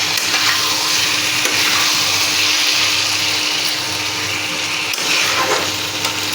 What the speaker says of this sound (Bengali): এখন ভালো করে নাড়াচাড়া করে কষিয়ে নিচ্ছি।